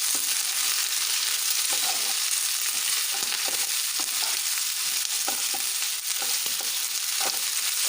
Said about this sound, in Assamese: ভেন্দিখিনি কমি যাব পাছত আৰু ভালদৰে লৰাই দিছোঁ।